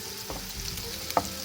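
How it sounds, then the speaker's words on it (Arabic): Vegetables and green pepper fry in a pan and are stirred, a steady close sizzle with a couple of soft scraping stirs and a brief clink near the end. "بنحرك المكونات بس يعطوا طعم ذهبي هيك على الخضار"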